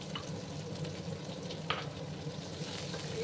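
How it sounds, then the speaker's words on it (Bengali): Chopped onion frying in hot oil in a pan, a steady soft sizzle with faint stirring scrapes, close and quiet, no voices. "দিয়ে ভালো করে আমি পেঁয়াজগুলোকে ভেজে নেব।"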